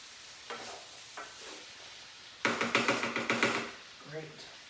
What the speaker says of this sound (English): I'm just gonna stir those beans into all those veggies